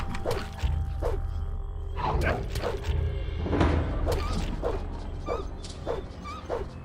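A dog in the video game Gothic 2 barks and yips in short, irregular bursts over a low background hum, moderately close.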